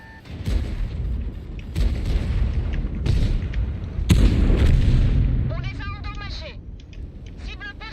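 Heavy cannon blasts in a tank video game, several loud booming shots spread through the stretch, with game engine rumble and chirping sound effects underneath and a player talking over it.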